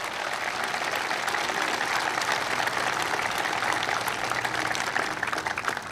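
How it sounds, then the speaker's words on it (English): An audience at a presidential speech at the Port of Wilmington gives a sustained round of applause, dense and steady clapping throughout, with no talk over it. "Give Jeremie a big round of applause."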